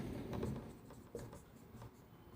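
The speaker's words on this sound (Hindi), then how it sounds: "तो हम एक रिसर्च की परिभाषा भी लिख देते हैं" Pen or pencil writing out a definition of research on paper or a board, a soft continuous scratching and tapping of strokes, close and steady with small pauses, no voices.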